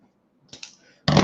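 Wire snips cut through a loop of bare coil wire, a sharp snip followed by a louder crisp clack near the end, close by with no talk.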